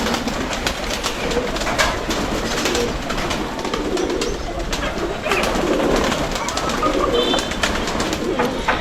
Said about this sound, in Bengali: আপনারা দেখতে পাচ্ছেন কবুতর পানি খাচ্ছে আমার,